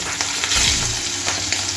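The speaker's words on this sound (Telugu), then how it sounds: "ఇదంతా ఒకసారి ఇలా కలిపేసుకొని 1 నిమిషం పాటు వేయించుకోవాలి" Ginger and green chillies fry in hot oil with turmeric stirred in for a kadhi, giving a steady close sizzle with soft stirring scrapes and no voices.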